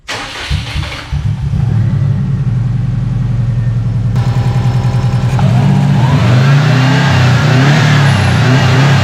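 A Subaru engine cranks with a rhythmic starter whir for several seconds, catches and fires up, then revs and settles into a loud, steady idle close by.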